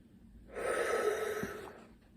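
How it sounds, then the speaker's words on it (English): A person's yawn, one drawn-out breathy exhale of about a second and a half that swells and fades, close and fairly soft, with no words spoken. "dang, I keep yawning."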